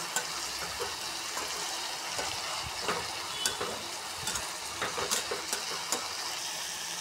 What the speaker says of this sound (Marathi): थोडासा काळा मसाला हे टाकायचा, मीठ टाकेले आपण। हे हलवून घेऊ चांगलं।